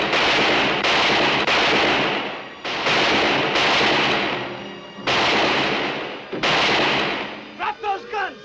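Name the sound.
gunfire in a western TV episode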